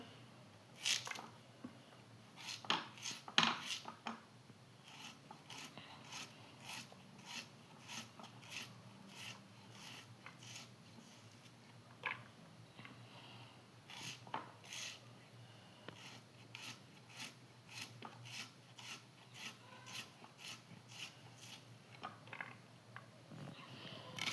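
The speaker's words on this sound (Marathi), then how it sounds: "चार कांदे घेतलेत आपण चिरतोय" A knife chops four medium onions on a board for a Marathi sweet-sour-spicy chutney, giving repeated quick taps in irregular bursts, fairly faint.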